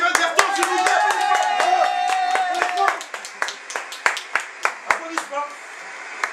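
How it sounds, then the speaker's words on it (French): Applause at the César awards ceremony, with distinct individual hand claps ringing out irregularly. Voices are talking over the opening stretch, then scattered, fading claps continue more sparsely. "Applaudissements."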